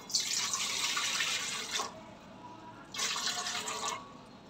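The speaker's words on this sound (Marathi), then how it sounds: "बघा आता इडलीचं भांडं ठेवूया आणि त्याच्यात आपण पाणी टाकून घेऊया।" Water running from a tap into an idli steamer pot in a home kitchen, two steady splashing pours separated by a short pause, fairly close.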